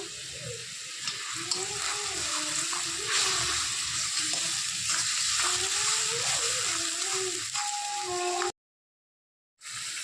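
Spice paste fries in hot oil for a shing fish curry, giving a steady sizzle with stirring scrapes and a tonal background hum, then a sudden cut to silence near the end.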